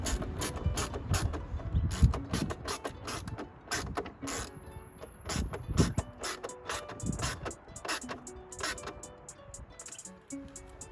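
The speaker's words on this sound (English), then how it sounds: "Now I'm going to get my screws and those rubberized washers and start fixing this in place." Torx T20 screws with rubberized washers being fastened into a carbon intake on an Audi RS3 8P, a busy run of small clicks, taps and ratcheting rattles close by, with no talking.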